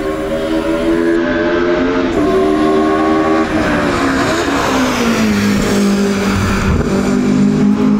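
Mercedes-AMG 190E DTM race car at full throttle down a straight, its engine a loud continuous high-revving howl with rising and falling pitch as it shifts, close and alone with no talk.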